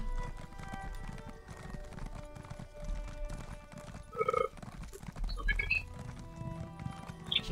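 Steady hoofbeats clip-clop at a walking pace in Elder Scrolls Online, with a brief horse whinny partway through, over a low ambient background.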